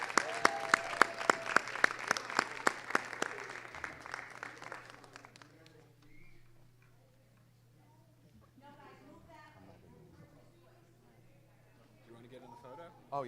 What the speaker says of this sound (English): One more round of applause for our Aldine School Safety Patrol.